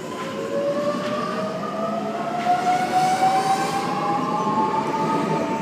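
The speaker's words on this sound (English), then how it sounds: "M set's departing." A Sydney Trains M set electric train departs a platform, its motor whine rising steadily in pitch over a constant rumbling of wheels and station noise, fairly loud and close with no talking.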